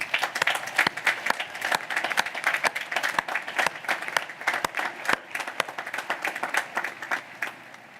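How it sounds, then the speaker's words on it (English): Audience applause at a university undergraduate commencement ceremony, a dense, steady burst of many hands clapping with sharp individual claps standing out, close and loud throughout. "Let's give them a round of applause."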